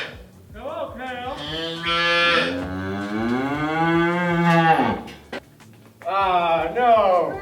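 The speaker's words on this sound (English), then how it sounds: "Hello, cow." A cow in a farm pen gives a long, loud, drawn-out moo lasting several seconds, then a second moo starts after a short pause, close to the listener.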